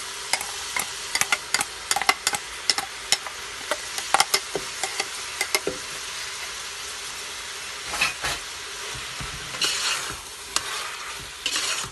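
Ground coconut masala paste added to a pot for vegetable pulao and stirred, sizzling throughout, with a quick series of sharp spoon scrapes and clinks against the pot that thins out into softer bubbling and a few later knocks.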